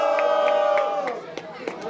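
A crowd at a Brazilian freestyle rap battle in Londrina makes sustained noise to vote, a steady roar of shouting and cheering with a few sharp spikes, loud throughout and thinning slightly toward the end.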